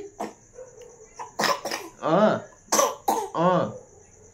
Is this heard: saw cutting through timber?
no